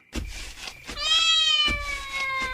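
A cat meows in a long, drawn-out, rising-then-falling cry after a couple of short bursts of noise, close and fairly loud, alone without talk.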